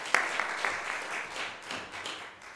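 A Sunday worship congregation in church gives a brief round of applause, a few sharp claps up front followed by soft, scattered clapping that rises and falls for a couple of seconds.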